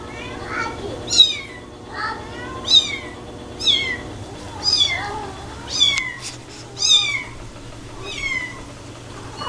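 A kitten meows repeatedly in short, high calls spaced about a second apart, close by, with someone speaking softly to coax it over a faint background hum.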